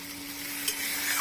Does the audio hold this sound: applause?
no